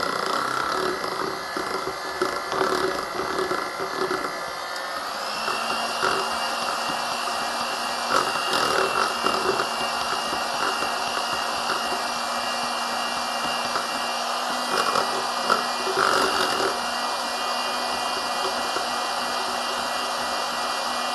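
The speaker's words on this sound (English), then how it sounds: "have your child press the switch to turn the mixer on" An electric kitchen mixer whirring steadily while making lemon cheesecake mousse, its motor whine stepping up in pitch partway through and then holding even, with no talking.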